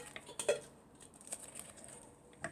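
Turbo chewing gums dropped into a container, a few light clattering taps and small rattles scattered over a couple of seconds, close and quiet, no talking.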